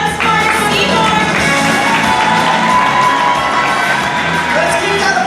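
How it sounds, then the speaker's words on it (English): A large audience at a SeaWorld Orlando show claps, cheers, whoops and shouts continuously, children's voices among them, forming a dense, loud wall of crowd noise throughout. "Everybody give a round of applause for SeaWorld."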